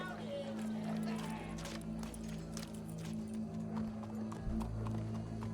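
Steady clip-clop of horse hooves trotting at a moderate distance in Red Dead Redemption 2, with a brief whinny and low ambient hum underneath.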